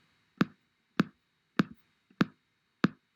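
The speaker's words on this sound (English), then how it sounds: "So on the drums, it would sound like this." Five sharp programmed drum hits from a drum machine sequencer, evenly spaced and loud, each a crisp percussive strike with a short decay, with no voices.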